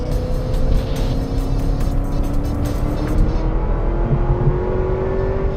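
A Chevrolet Corvette ZR1, a 200-mph car, accelerates hard with a loud, steady engine roar and rising pitch, heard close up without talk.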